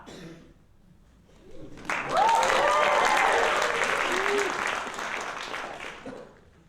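Theatre audience at a student classical play bursts into loud, sustained applause, a dense wash of clapping hands that swells quickly and then slowly fades, with a voice calling out faintly at the start.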